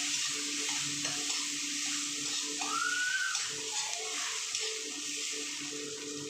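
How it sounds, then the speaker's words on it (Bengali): Chopped onion frying in a small amount of oil for a katla fish curry, a faint, steady low sizzle with light stirring and a brief squeak, no one speaking. "পেঁয়াজটা ভাজা ভাজা হয়ে যায়"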